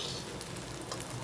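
Onion, garlic and other ingredients fry in a pan of oil, giving a soft, steady sizzle with faint crackles and no voices, kept low throughout.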